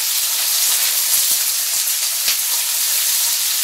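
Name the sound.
langoustines and onions sizzling in a pan while stirred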